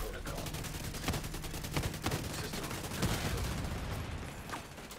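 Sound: shotgun fire in video game The Division

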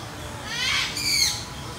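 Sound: caged birds calling at a plant nursery

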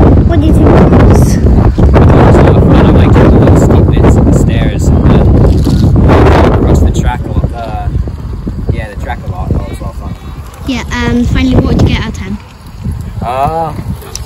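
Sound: wind

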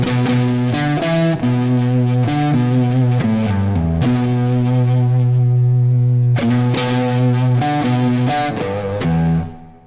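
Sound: electric guitar through overdrive pedal, treble raised slightly

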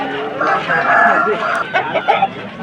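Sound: rooster at Vijayawada market

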